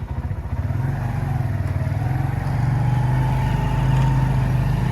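Motorcycle engine idling and running steadily close by, a low droning hum that rises slightly in pitch and loudness midway, near Khewra salt mine, no talk.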